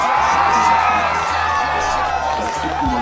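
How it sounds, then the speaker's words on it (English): Election night supporters cheering and whooping as the result comes in, a dense, loud crowd roar sustained throughout with shouts rising above it. "what you're hearing is a lot of people just cheering and going, yeah!"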